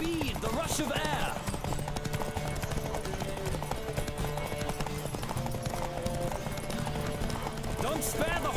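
Galloping hoofbeats from a horse race in The Witcher game drum on steadily beneath a music bed, with a brief whinny near the start and speech mixed in.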